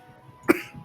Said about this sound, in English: I always cough like this